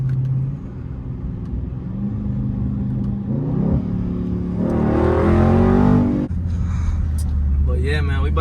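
A Dodge Scat Pack with a mid muffler delete revs loudly, its deep exhaust rumble rising and falling in bursts, swelling to a strong roar midway, with people talking inside the car over it.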